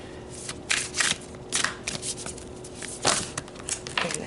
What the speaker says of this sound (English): I'm trying to shuffle the cards like directly in front